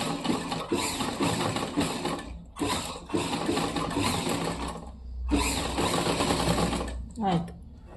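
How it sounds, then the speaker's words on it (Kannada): A sewing machine stitches over piping on a blouse, running in long loud stretches with brief pauses, while a person talks throughout. "ಕರೆಕ್ಟಾಗಿ ಅದೇ ಸ್ಟಿಚಿಂಗ್ ಲೈನ್ ಮೇಲೇ ಸ್ಟಿಚ್ ಮಾಡ್ಕೊತಾ ಹೋಗಬೇಕು."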